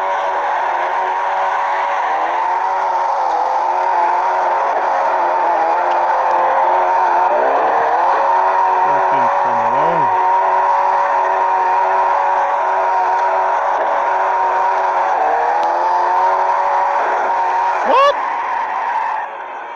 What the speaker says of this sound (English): I'm not racing on this truck no more.